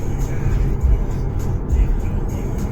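Car cruising at about 80 km/h, a steady low rumble of engine and road noise filling the cabin throughout, loud and continuous with no clear revving.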